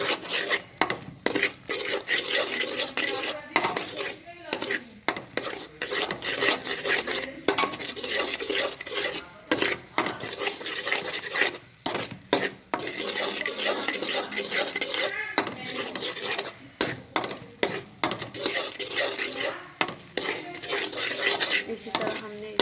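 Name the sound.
stirring and roasting besan and egg halwa in pan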